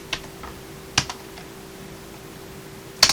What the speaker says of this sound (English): I'm going to be typing some stuff on it to test that all the keys are still working on it